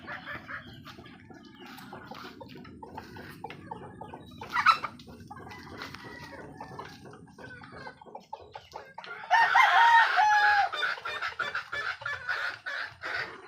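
Pet chickens at feeding time crow and cluck repeatedly at close range, with busy overlapping calls and a louder burst of crowing and squawking toward the end.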